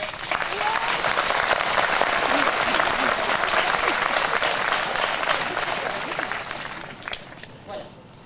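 An outdoor audience at a summer event in Villebois-Lavalette applauds loudly. The clapping is dense and sustained for several seconds, with crowd voices mixed in, and then thins out and fades toward the end.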